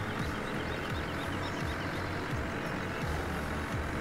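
A tractor engine in a farming game on the Le Petit Limousin map, driving in a steady, continuous low rumble that holds at an even level from start to finish with no voices.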